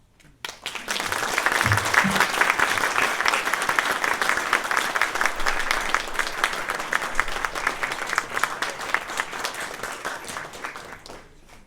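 Sustained audience applause fills a hall at a 2023 Bay Area officials' hall of fame induction, many hands clapping loudly and densely for over ten seconds before fading.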